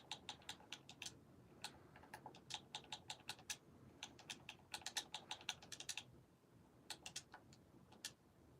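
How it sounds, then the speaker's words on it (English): A password is typed on a computer keyboard in quick irregular bursts of soft, close key clicks, with short pauses between runs and a faint hum underneath. "I typed in the password wrong."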